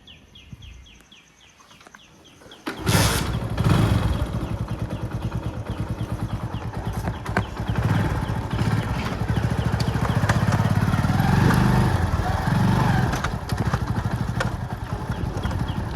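A motorcycle engine starts up and then idles with a steady low rumble close by, after a few seconds of quiet with birds chirping.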